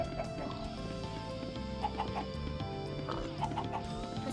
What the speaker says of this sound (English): Here are the chickens.